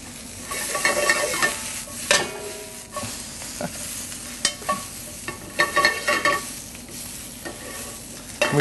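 Wild ramp bulbs and greens cook in a hot pan alongside braised beef short ribs and asparagus, a steady close sizzle broken by repeated sharp scrapes and clatters of stirring, with no talking.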